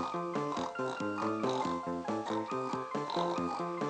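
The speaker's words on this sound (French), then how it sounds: "Voici les cochons." Pigs oink in a children's story about a little mountain train, with a quick, regular run of grunts over steady musical accompaniment.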